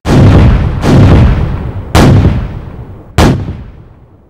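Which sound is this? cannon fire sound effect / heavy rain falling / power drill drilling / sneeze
cannon fire sound effect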